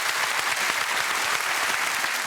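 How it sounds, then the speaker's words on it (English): Loud, dense applause from a studio audience at a TV talk show, continuous and close throughout without a break. "A round of applause"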